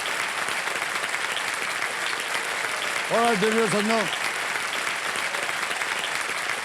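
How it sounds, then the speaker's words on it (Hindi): A studio audience on a quiz show set applauds loudly and continuously, a dense roar of clapping that runs throughout, with a voice speaking briefly over it midway. "तालियां बज जाए जोरों से नमीश के लिए।"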